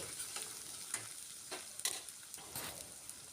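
Ginger garlic paste fries in a pan with a soft continuous sizzle, broken by a few quick scraping stirs, quiet and close with no talking.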